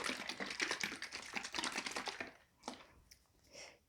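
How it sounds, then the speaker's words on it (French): Acrylic pouring medium, a mix of acrylic paint and glue, stirred in a container with quick, busy scraping and tapping strokes that stop partway through, leaving a few faint knocks. "Et je vais, bien sûr, mélanger mon médium bien comme il faut"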